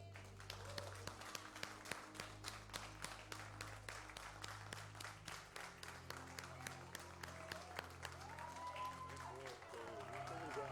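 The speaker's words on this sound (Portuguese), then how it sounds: "Eu peço para que a gente possa aplaudir esse homem de Deus" A church congregation applauding together, steady rhythmic clapping from a crowd lasting throughout, with a voice speaking over it.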